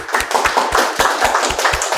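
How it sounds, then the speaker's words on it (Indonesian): Rhythmic clapping from a small group in a lecture or teaching session, sharp regular claps repeating at a quick, even pace, close and fairly loud, with no talk over them. "tepuk tangan"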